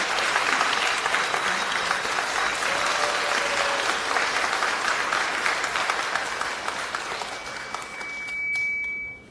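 Crowd at a political party preparatory committee launch ceremony giving a long round of applause for three co-chairs, loud and sustained for several seconds before tapering off and stopping near the end.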